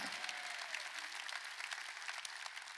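Congregation applauding during a Sunday worship service at a church rally, a dense, steady wash of clapping hands filling the room with no break.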